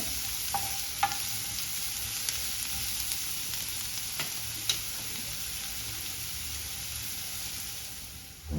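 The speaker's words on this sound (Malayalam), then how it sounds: "സവാളയും പച്ചമുളകും ഇട്ട് കൊടുക്കാം ഇനി ഇതൊന്ന് രണ്ട് മൂന്ന് മിനിറ്റ് ഒന്ന് വഴറ്റാം" Onion and green chili sautéing in a pan for a lady's finger stir fry, a soft continuous sizzle with occasional light ticks of a spatula, fairly quiet and steady throughout.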